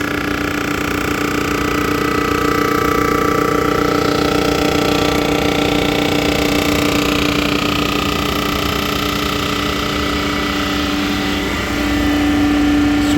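A machine cutting the cylinder head surface from a Chrysler 300 with blown head gaskets gives a loud, constant mechanical whine and hum with a faint rhythmic grinding texture running unbroken throughout.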